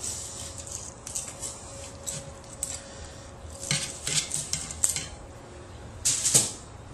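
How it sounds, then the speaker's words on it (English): A knife cuts through a rack of pork spare ribs in a kitchen, giving scattered clicks and scrapes against the board and pan, with light clatter and a steady faint hum underneath. "I like to go ahead and cut the ribs. I normally cut them into about thirds."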